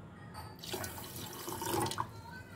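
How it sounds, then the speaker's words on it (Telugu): Water poured from a cup into a pan to make sugar syrup, a short close splash and trickle that lasts under two seconds, with no talking. "ఇదే కప్పుతోని వాటర్ అనేది వేస్తున్నాను."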